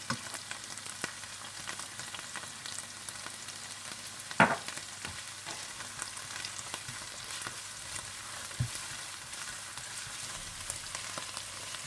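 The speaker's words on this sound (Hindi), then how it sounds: "आप इसमें अदरक लहसुन डालकर भून लें।" Ginger and garlic sizzle quietly in a pan after onion paste has fried, a soft steady crackle with a couple of sharper clinks from stirring.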